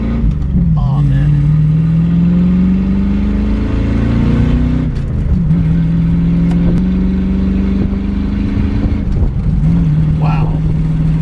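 A Mustang GT's loud exhaust drones and rises in pitch through several gear pulls under hard acceleration on a road, recorded from inside the car, with a voice talking over it.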